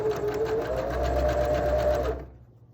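A sewing machine stitches bias tape closed along the edge of a fabric face mask, running steadily and close up for about two seconds before stopping.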